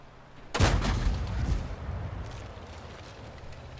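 A tank cannon fires with a loud boom in World of Tanks, from the BT-7 Art. tier 3 premium tank, followed by a rumbling decay that trails off over a few seconds.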